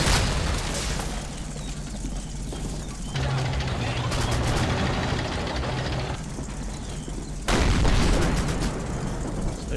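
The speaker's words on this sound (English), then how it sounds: "see what type of damage it takes when all those 20mm rounds hit into it" Rounds from a 20mm cannon slam into a Sherman tank in a WWII strategy video game, heard as dense, rumbling bursts of rapid impacts and booms that swell and break off in loud waves.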